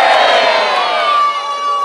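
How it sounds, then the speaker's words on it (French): An outdoor street show audience shouts out together in a loud, close burst of mixed voices, with sustained cries and whoops that ease slightly toward the end. "Une déception spontanée est montée parmi la foule."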